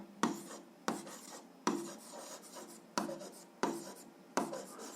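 Pen writing on paper during an algebra lesson, heard close and quiet as six separate bursts of scratchy strokes, each starting sharply and trailing off, with short pauses between and no talk.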